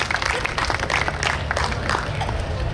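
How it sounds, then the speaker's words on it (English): An outdoor audience applauds the sergeant at a New York State Police underwater recovery team demonstration, with steady scattered clapping lasting throughout and voices murmuring underneath. "We all clapped for you."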